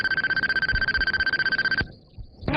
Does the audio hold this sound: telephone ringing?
yes